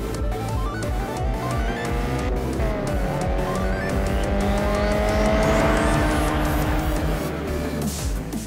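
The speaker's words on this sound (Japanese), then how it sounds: "グランツーリスモのために我々新しいレースカーを作りました。" A race car in Gran Turismo drives hard, its engine revving up and down through gear changes with tire squeal, loud and continuous with no talk.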